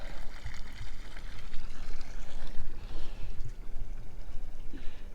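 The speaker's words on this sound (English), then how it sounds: "let me kick the bilge pump on. Huh. Bilge pump works." Bilge pump on a boat sitting on its trailer, running as a steady watery hum and gurgle with low thumps, fairly close and continuous throughout, with no talking.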